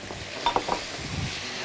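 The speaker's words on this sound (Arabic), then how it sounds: "وبعد كده هننزل بالجمبري" Peeled shrimp dropped into a hot pan with onion and garlic, giving a short burst of sizzling and a few soft clinks of stirring close by, with quiet kitchen background.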